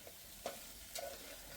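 Poha in a pan with tempering and squeezed lemon juice is stirred, giving two quick, faint spatula scrapes over a low sizzle, close and with no voices.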